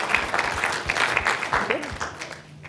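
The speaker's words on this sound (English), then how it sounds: "I was applauding the offer from Andre" An audience claps in a room, a dense close patter of hands that tapers toward the end, with people talking over it.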